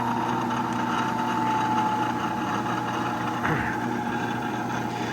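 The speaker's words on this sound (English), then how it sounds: "So you gotta turn on the motor so you can change the speed here." Milling machine motor running with a 4-flute bit fitted, a steady low hum with a faint constant whine, close and even throughout, with one brief soft knock partway through and no talk.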